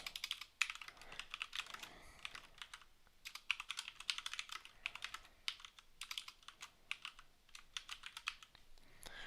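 Rapid typing on a computer keyboard, close and fairly quiet, a steady patter of key clicks broken by short pauses.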